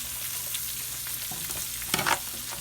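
Shrimp and scallops sear in a hot pan with a steady, close sizzle. A brief louder burst of crackling and scraping comes near the end.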